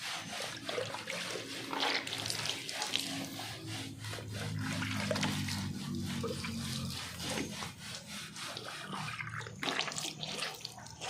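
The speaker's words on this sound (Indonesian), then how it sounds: "Jadi saya akan siram dengan air supaya netral." Water is splashed and poured over car paint to rinse it after polishing, producing a continuous wet rushing and trickling with scrubbing-like rubbing, fairly faint and steady throughout.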